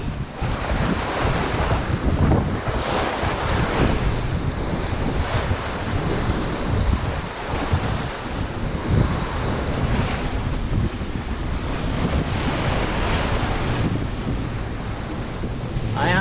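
Surf and strong wind roar steadily around a sailing yacht running fast in 25-knot wind with 30-knot gusts off Indonesia, a dense, close wash of water and gusting air with no voices.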